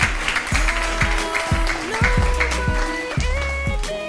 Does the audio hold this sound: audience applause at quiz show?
yes